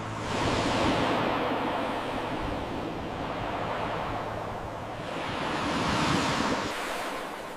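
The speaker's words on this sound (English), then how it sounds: "Waves gently kiss the shore." Sea waves wash onto an Italian shore, a broad hissing surge that swells, recedes and rises again, steady and fairly close, mixed with a rush of wind and no voices.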